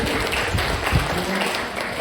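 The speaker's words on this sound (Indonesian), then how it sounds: "Kalau ramai tepuk tangannya" School teachers and staff clap together in a hall, a sparse, uneven patter of applause under a low murmur, lasting a couple of seconds.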